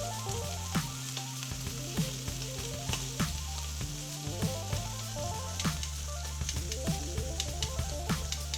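Beef sears in a hot pan with a steady, close crackling sizzle, punctuated by scattered sharper pops, over a low continuous background hum.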